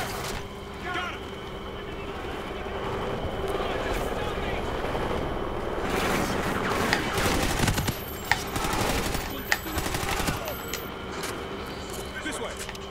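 Gunfire in the Call of Duty: Ghosts campaign, sustained bursts of shots and impacts through a dense battle din, with several sharp cracks standing out late, under urgent shouted voices.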